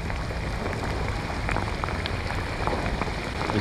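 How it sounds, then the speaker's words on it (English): Heavy rain pours steadily onto a fishing boat off Sydney during a kingfish outing, a dense, continuous hiss with scattered louder drop impacts and no talking. "Heavy rain."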